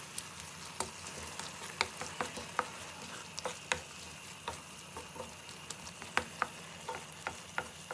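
Garlic and sugar sizzle softly in a frying pan for borscht while a utensil stirs them, giving steady light clicks and scrapes at an even pace over a constant low hiss, close by with no voices.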